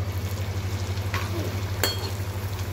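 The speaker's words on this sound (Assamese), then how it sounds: "ইফালে এটা ভাজিছোঁ" Chicken sizzles as it fries in a pan, with a steady, soft hiss under a low electrical hum and a couple of brief clinks from stirring.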